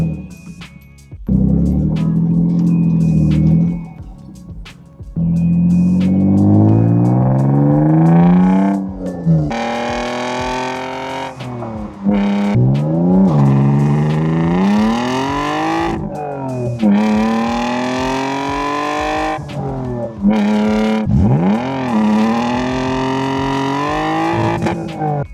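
A BMW E36 M3's engine revs up repeatedly in rising bursts with short pauses between, close by and loud, as the car is driven onto a lift.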